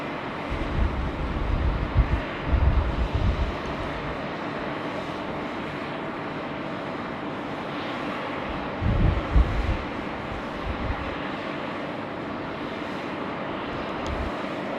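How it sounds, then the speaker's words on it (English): Airliner beginning its takeoff roll on runway 34 left at Sydney Airport, a steady distant engine roar with wind buffeting the microphone and a couple of gustier swells. "It's just received its takeoff clearance, so it's going to start rolling 3-4 left any second."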